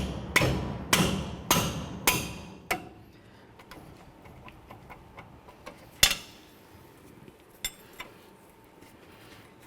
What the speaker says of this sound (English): remove our 2 18mm mounting bolts for our caliper